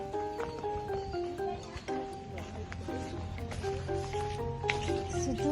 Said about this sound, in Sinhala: සුදු අශ්වයෙක් ඉන්නවා